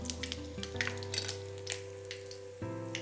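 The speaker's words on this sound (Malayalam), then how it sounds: "എണ്ണ നല്ലോണം ചൂടായിട്ടുണ്ട്. കടുക് പൊട്ടട്ടെ." Mustard seeds pop and crackle in hot oil for Kerala-style prawn rasam, with scattered sharp snaps over a soft steady sizzle and a low constant hum from the stove area.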